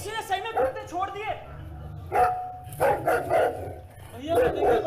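Dogs bark in short repeated yaps and whimpers during a staged Hindi stage play about King Shrenik, close and fairly loud, interleaved with people talking.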